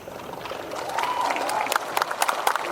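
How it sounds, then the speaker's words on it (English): Audience at a William Shatner Q&A in Philadelphia breaks into scattered clapping that builds from a quiet murmur, with crisp individual claps sharpening toward the end. "The same number of people are clapping for the album that clapped for the one-man show."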